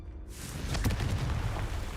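A Confringo blasting spell in Hogwarts Legacy bursts in with a deep, rumbling boom that swells after a brief silence and keeps rolling low and steady to the end.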